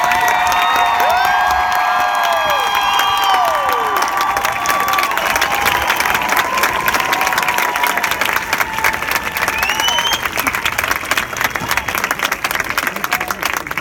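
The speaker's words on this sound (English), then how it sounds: "give him a round of applause." A festival crowd at the Something In the Water 2019 kickoff breaks into sustained applause and cheering, with whoops and shouts over dense clapping that stays loud throughout, voices mingling in the noise.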